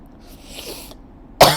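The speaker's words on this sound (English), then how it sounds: "a cough." A single sharp cough bursts out near the end, loud and close, after a stretch of faint background noise.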